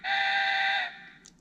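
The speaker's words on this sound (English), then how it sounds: "The light flashes and it makes train whistles." A Tomy Plarail C62 toy steam locomotive sounds a single electronic train whistle that holds steady for almost a second and then cuts off, leaving a faint click afterward.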